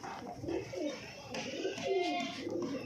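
Pigeons coo close by in low, rounded, repeating calls, with faint chirps and a little background murmur.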